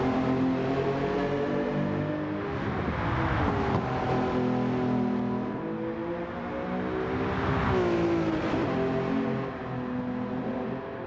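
A 2000 Lamborghini Diablo GT's engine revs and climbs through the gears on the Mount Panorama circuit in a racing game, a loud continuous whine rising and falling in two long sweeps.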